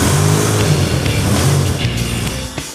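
A 1985 Buick Grand National turbo engine runs loud and close in a sustained rev, its rough drone holding steady before easing off near the end.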